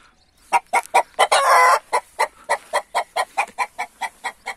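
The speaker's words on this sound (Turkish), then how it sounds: "horoz burada ötüp duruyordu" A rooster named Ali Osman, guarding a hen on her nest, calls up close in a long run of sharp, evenly spaced clucks broken early by one sustained crow, with no speech.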